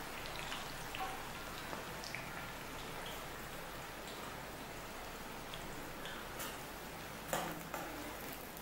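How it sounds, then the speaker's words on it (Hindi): Thin onion slices fry in oil over medium-low heat for vegetable biryani, a faint, even crackling sizzle that holds steady throughout with a few small pops near the end. "ये थोड़ी आधी आधी करके हम इसको फ्राई करेंगे मीडियम लो हीट पर।"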